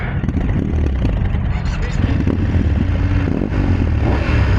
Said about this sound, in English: Okay, so the engine doesn't sound great.